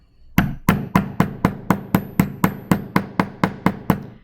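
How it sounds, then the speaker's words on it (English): Steady metal hammering while setting eyelets in a hoodie hood, about fourteen sharp ringing blows at an even pace, close and loud with no talking. "And again, I'm going to hammer."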